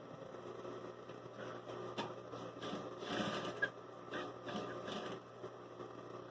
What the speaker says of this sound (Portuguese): o tecido não está passando pelo pé da máquina. Então, se a gente for costurando devagarinho